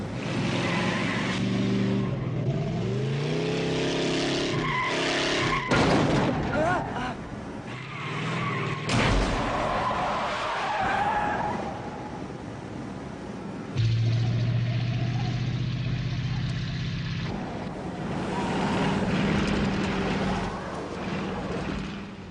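A damaged pickup truck in a film skids with squealing tires and roaring engine noise over several long passes, loud and close, amid crashing and grinding as it slows.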